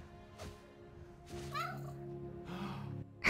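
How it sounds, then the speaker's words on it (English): A cat in the video game Spider-Man: Miles Morales gives two soft, drawn-out meows, close and fairly quiet, separated by a short pause, with a faint breathy sound before them. "I can hear the cat mewing."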